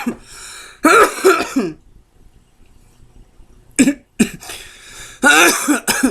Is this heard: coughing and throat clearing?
yes